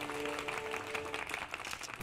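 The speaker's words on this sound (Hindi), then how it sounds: "तालियां।" Applause from a studio audience at a staged public court event in a Hindi TV comedy, a brief steady patter of clapping at moderate volume with background music.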